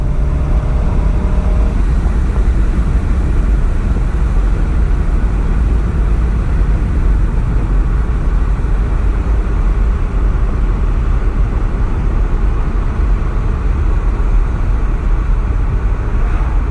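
VW Golf R Mk7.5 with a Unitronic Stage 1+ tune pulling in fourth gear, producing a continuous loud engine and road roar that holds steady throughout.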